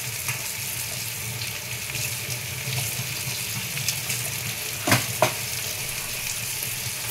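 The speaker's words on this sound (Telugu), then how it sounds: "ఇప్పుడు మనం ఇందులోనే అల్లం వెల్లుల్లి పేస్ట్ వేగిందండి।" Ginger garlic paste and turmeric frying in a pan for egg dum biryani, a steady close sizzle with soft stirring scrapes and a couple of brief clinks near the end.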